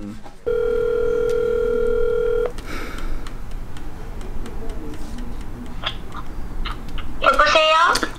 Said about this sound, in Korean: 한번 전화해볼까요?